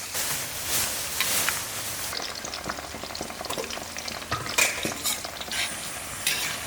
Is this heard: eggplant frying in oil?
yes